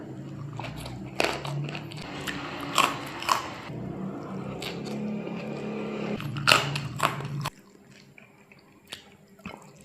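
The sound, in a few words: crunching on kerupuk kemplang crackers while eating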